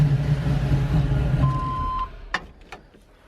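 A Camaro with a swapped-in LS engine rumbles deep and close for a couple of seconds, then the sound fades away, leaving a few faint clicks.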